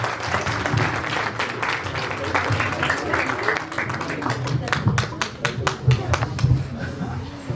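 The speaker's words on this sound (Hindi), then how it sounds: "इस महफिल को एक बार बड़ा जोरदार तालियां बजाते" Audience applause at a college poetry event in Haridwar, steady crowd clapping that swells and carries on for several seconds, with sharp individual claps standing out near the end.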